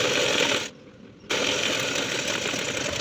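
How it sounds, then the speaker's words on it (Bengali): A sewing machine stitches the folded quarter-inch edge of a baby frock, running in a fast, loud mechanical whir close by, stopping briefly and then starting again, with no voices. "তারপর কিন্তু আবারও একটা সেলাই করে নিতে হবে"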